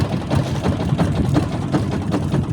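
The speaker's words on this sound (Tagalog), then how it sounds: "At yan makina" A low boat engine idles steadily with a rough, pulsing chug during night fishing, close and continuous without any talking.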